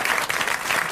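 A television studio audience applauds a contestant from Charleville, a dense, loud burst of clapping lasting under a second.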